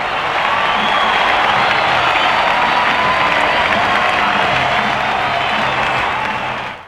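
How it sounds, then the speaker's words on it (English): A big baseball stadium crowd roars and applauds as the Atlanta Braves win in 1991, with a loud, sustained wall of cheering and clapping that holds steady before easing off at the end. "Listen to this crowd."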